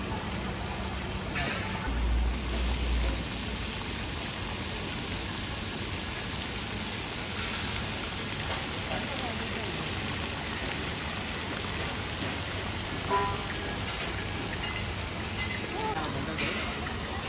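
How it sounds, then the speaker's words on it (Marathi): A park fountain at Namo Garden Central Park in Thane spraying water: an even, rushing hiss that runs unbroken for the whole stretch, with voices faintly in the background. "आणि तुम्ही हा फवारा बघू शकता कसा एकदम"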